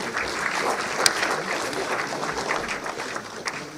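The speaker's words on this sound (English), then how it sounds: "A huge round of applause for them" Steady applause from an audience at a national intellectual property awards ceremony and conference, dense continuous clapping of moderate loudness with a few sharper claps, and no talking over it.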